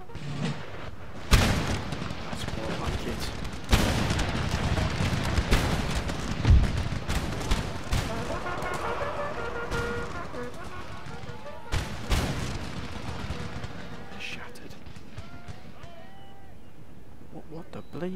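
Demi cannons and artillery fire in the strategy video game Empire: Total War, with several sharp booms scattered through a noisy battle bed and someone talking over the action.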